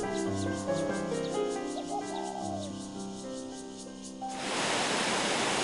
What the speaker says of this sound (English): you'll hear the crash of water. Magnificent, ever-changing Neidong waterfall is ahead.